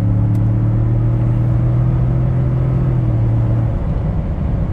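A Ford F150 pickup truck accelerates from inside the cab, a loud, constant low engine drone with a steady tone that holds and then drops a little near the end.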